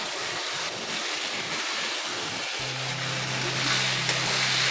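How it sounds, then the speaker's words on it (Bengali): Washed atap rice sizzles with spices in a pan for khichuri, a dense steady frying hiss with faint scraping, close and continuous, and a low hum joins partway through. "চালটাকে মশলার সঙ্গে ভালো করে কষিয়ে নেব।"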